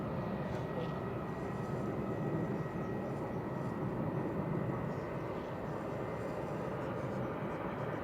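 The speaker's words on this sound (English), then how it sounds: "That was Ryanair touching down from Alicante" A Ryanair jet from Alicante touches down at Manchester Airport with a continuous broadband rumble of engines and rollout that stays level for several seconds, no talk over it.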